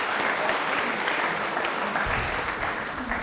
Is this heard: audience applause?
yes